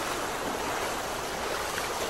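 Water pouring steadily at the second Mordarya waterfall, a dense, unbroken rush heard close up, with no voices.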